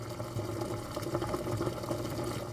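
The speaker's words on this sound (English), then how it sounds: "When the wash is done, you may hear this as water is pumped out of the washer." A 2005 GE front-load washer pumps water out after the wash, giving a steady low mechanical hum with a gurgling, fluttering texture. It runs continuously at a moderate level, with no voices.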